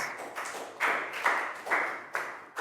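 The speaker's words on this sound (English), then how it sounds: "Big round of applause for Net." A few people clap together in a classroom during a Year 3 shape patterns maths review lesson, a short round of applause in several close, loud bursts.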